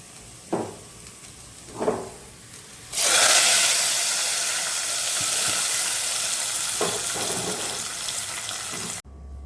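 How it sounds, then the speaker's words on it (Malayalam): Shallots, dried red chillies and curry leaves fried in hot oil for a pumpkin and red cowpea erissery, poured into the curry: a few soft clinks, then a loud, steady sizzle from about three seconds that holds until the end, with no talking. "നമ്മുടെ ചുവന്നുള്ളിയും വറ്റൽമുളകും കറിവേപ്പിലൊക്കെ നന്നായിട്ട് എണ്ണയിൽ മൂത്തു."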